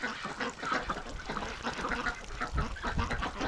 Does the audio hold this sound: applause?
no